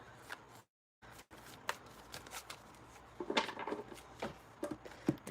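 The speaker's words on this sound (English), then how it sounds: "I'll shuffle these cards too." Tarot cards being shuffled by hand, a run of soft papery riffles and flicks at close range with short pauses between bursts, no talking.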